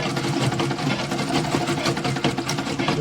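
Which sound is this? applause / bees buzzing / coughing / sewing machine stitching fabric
sewing machine stitching fabric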